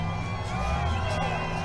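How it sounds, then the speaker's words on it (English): A crowd at a Trump campaign rally in Winston-Salem, North Carolina, cheering and whooping in anticipation, a steady roar of many voices with scattered shouts and a steady hum underneath. "they're cheering, showing their excitement"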